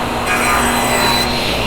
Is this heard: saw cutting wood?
yes